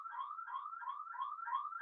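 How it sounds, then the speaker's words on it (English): An electronic alarm warbles in a fast repeating rising-and-falling tone, steady and fairly close, with no talking over it. "sorry, that's the alarm."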